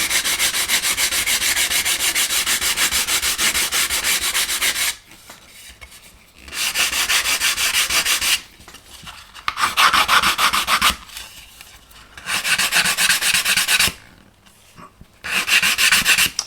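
Hand sanding of a plastic part from a Heller 1/200 scale Elizabethan model kit, close and loud, in several bursts of steady gritty rubbing strokes separated by short pauses.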